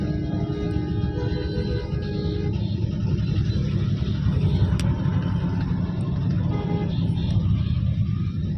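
A truck rolls along a busy road near a railway station, with a steady low engine rumble and road noise that fills the scene without pause.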